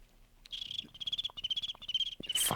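A person imitates a cricket's chirp with the voice, producing repeated rapid trills in close, loud bursts with short gaps, ending in a breathy noise.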